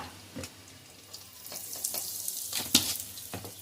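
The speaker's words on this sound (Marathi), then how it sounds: "जिरं छान तडतडलं की थोडासा हिंग घालायचा" Quiet crackling and small pops of cumin seeds in hot oil, sparse at first and growing busier, with a sharp snap near the end; no voices.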